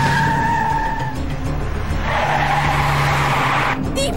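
Car tires squeal hard as a car accelerates fast, with sharp, loud skidding screeches over a roaring engine, the squeal shifting pitch midway and continuing to the end.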